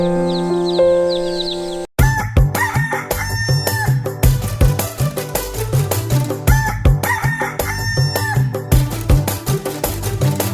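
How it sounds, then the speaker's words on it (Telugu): Cartoon rooster sound effect from a children's animation: loud, repeated crowing and clucking calls in a bouncy rhythmic pattern, preceded by a short tonal intro. "మంచి కొక్కర కోడి ఉదయం మేలేచి ఊరు నిలిపి ఉత్సాహమిచ్చే కోడి"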